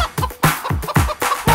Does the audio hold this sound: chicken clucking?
yes